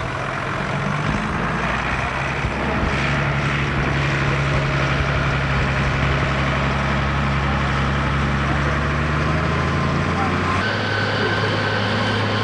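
A tractor fitted with a front linkage for a front-mounted cutter runs at an outdoor grassland machinery working demonstration. Its engine gives a steady, loud droning rumble that continues without letup, with a voice talking over it.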